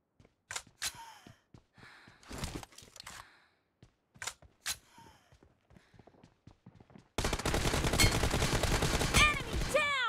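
Gunfire in the mobile shooter PUBG Mobile, scattered sharp shots and short bursts early on, then a few seconds of dense continuous firing at the end.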